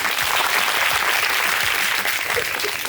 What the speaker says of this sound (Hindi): सबके लिए एक बार तालियां तो बनती हैं